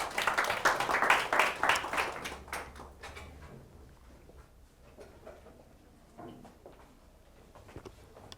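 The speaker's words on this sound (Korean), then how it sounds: "자, 박수 한번 쳐주세요." A classroom group claps in a lively burst for a design class presentation that fades after a few seconds, leaving quiet room noise with scattered shuffles and faint voices.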